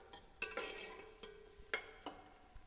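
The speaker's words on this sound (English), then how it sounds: "Stir it a little bit." A spoon stirs sweated onions, ginger and whole black pepper in a soup pot, making several quiet scraping strokes in an uneven rhythm with a faint sizzle underneath, no talking.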